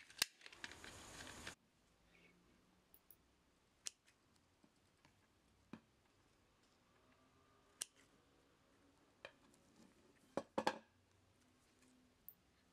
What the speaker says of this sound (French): Donc là, je commence à couper du scotch.